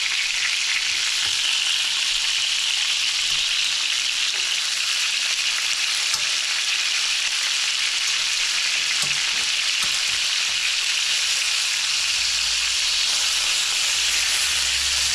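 Pieces of honey mustard chicken deep-fry in hot oil until crispy, giving a loud, steady, close-up sizzle and hiss that runs without a break, with faint spattering pops and no talking.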